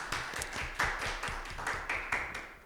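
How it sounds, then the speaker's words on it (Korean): An audience at a volunteer-activity community forum applauds the presenters, with steady clapping of moderate loudness and a few sharper claps standing out. "먼저 발표해 주신 발제자님 큰 박수 한번 드리고"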